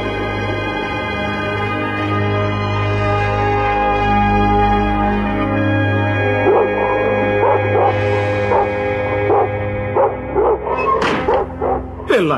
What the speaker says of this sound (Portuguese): Por que vocês estão latindo?